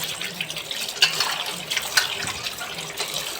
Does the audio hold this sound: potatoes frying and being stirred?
no